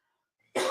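A single short cough, sharp and close, bursting out of near silence at the very end.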